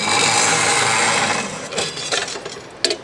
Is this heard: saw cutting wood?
yes